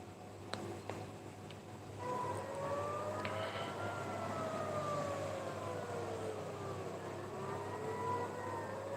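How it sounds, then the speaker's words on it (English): Sirens wail during an Iranian missile attack, their pitch rising and falling in slow sweeps. They come in after a couple of seconds of low background hum and stay faint and far off, with no voices. "The sirens, you can clearly hear the sirens."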